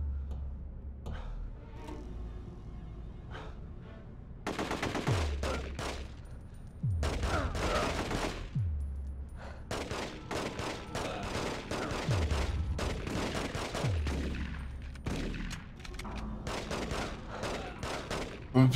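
Bursts of AK rifle gunfire in The Getaway video game, rapid automatic volleys repeating in clusters over a low, steady game background, loud and close.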